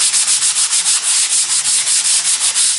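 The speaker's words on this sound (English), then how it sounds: "So I'm just using a sanding block" A sanding block scuffs rapidly back and forth over the textured plaster of a faux travertine column, giving about a dozen quick, even rasping strokes in a steady rhythm, close and loud, with no talk.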